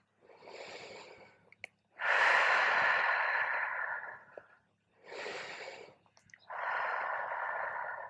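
Four slow, deep breaths during a yoga flow alternate between inhales and long, airy exhales. They are close and clear, with quiet pauses between them and no speech.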